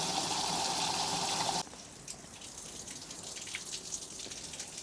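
A bilge pump on a small boat drains water out after a freezing week, a steady loud whirring wash that cuts off abruptly, leaving quieter trickling and dripping water.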